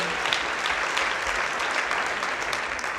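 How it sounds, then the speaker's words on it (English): A church congregation claps together at a worship service, an even, sustained burst of many hands filling the room without letup, with no voices standing out. "Somebody clap for Jesus."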